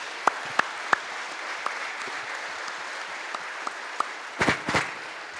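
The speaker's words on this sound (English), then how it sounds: "I just really want to give them a big round of applause" Scattered individual claps ring out sparsely over a quiet room at a school event, ending with a couple of louder bursts of clapping near the end.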